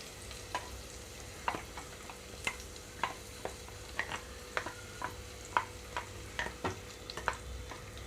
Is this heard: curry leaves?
yes